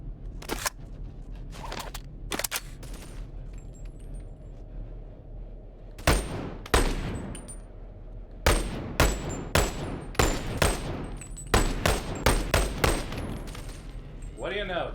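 Rifle fire in the VR shooter Boneworks, with scattered single shots early, then rapid bursts of sharp, loud reports in quick succession, punctuated by mechanical clicks.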